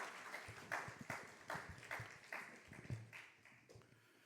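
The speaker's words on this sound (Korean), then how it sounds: "목사님 나오실 때 한 번 더 박수하겠습니다" An audience at a Korean university chapel service claps for a pastor, heard as faint, distant, rhythmic hand claps that slowly fade.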